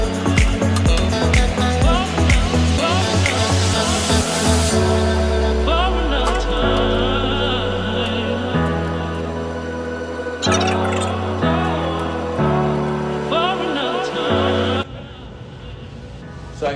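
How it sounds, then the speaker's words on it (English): Water pours loudly into a hydroponic bucket system as the fill level rises, the pitch of the stream climbing steadily, with a few gurgling pauses and no talking. "if I pour it into one bucket, it'll fill up all the other buckets"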